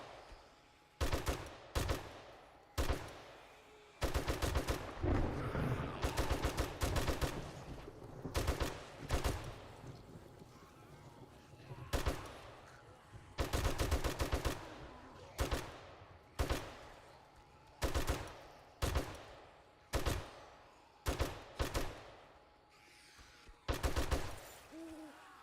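Repeated bursts of automatic gunfire aimed at zombies in 7 Days to Die, loud and close, coming in short volleys with brief pauses over about 25 seconds, with no talking.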